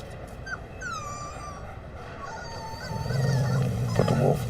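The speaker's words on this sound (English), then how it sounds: "It's a puppy. Not a puppy, a wolf." A wolf pup whimpers in thin, high wavering whines during a television commercial, over a steady background hum that thickens toward the end.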